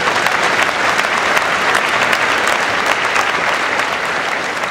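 An audience claps at a speaker-series talk, a dense, steady wash of applause that holds evenly at full volume from start to finish, with no voices rising above it.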